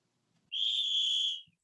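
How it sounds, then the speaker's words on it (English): A single sharp, steady whistle blast lasting about a second sounds clearly against near silence, with nothing else around it. "I don't think it deserved a whistle."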